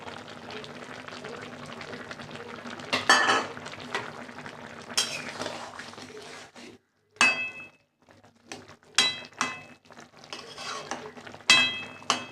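Paneer going into a boiling vegetable gravy of broccoli, potato, carrot and peas, with a spoon stirring and scraping the pot in uneven bursts, brief clinks and pauses of near silence in between.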